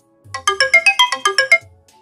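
A phone ringtone plays a quick electronic melody of about ten bright, evenly spaced notes, loud and clear with nothing else behind it.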